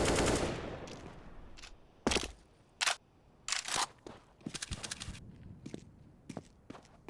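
Rapid gunfire spray in Counter-Strike on the Dust2 map during a pro match, heard as a few sharp bursts with short gaps between them, plus quieter clicks and footsteps, with no talking.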